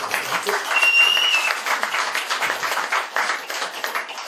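A renewed round of audience applause at a Korean association gathering for the chairman, broad, continuous clapping from a roomful of people, with a brief high electronic tone near the start.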